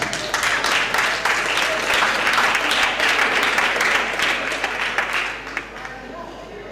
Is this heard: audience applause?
yes